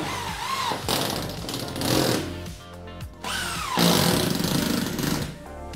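A power screwdriver whines up and down in repeated bursts as it drives screws into moisture-resistant plasterboard, loud and close, with no talking.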